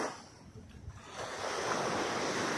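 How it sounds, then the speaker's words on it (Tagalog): Small sea waves break along a fishing shore at Naic, Cavite, a steady wash of surf that swells and grows louder and fuller midway, with light wind noise and no voices. "maliliit yung alon."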